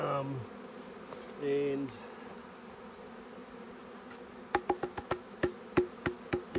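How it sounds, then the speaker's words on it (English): Honey bees being shaken into a new hive make a soft insect buzz, followed by a series of sharp knocks and taps against the wooden hive, with a brief spoken word near the start. "I have to shake all of these into here very gently."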